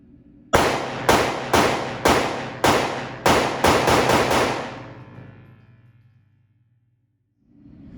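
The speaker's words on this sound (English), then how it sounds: "Let's have Aaron shoot some rounds and see what he thinks." A SIG P365 SAS pistol fires eight sharp, loud shots at a shooting session, in an uneven string with several in quick succession, then a long ringing decay.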